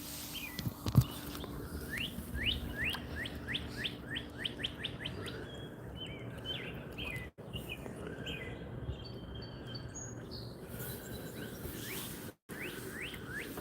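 Many small birds call and twitter at backyard feeders, quick rising chirps in rapid bursts early on, then sparser, softer calls from farther off, with no voices.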